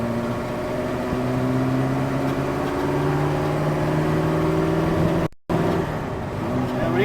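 Superformance GT40 MKII sports car driving, its engine giving a steady droning hum at cruising revs, close and even throughout, with a brief dropout near the end.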